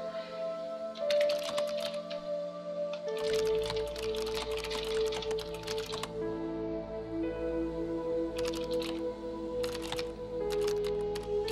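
Typing on a computer keyboard: bursts of rapid, close key clicks in irregular runs with pauses, over a low hum and faint background music.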